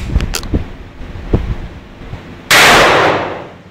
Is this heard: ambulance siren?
no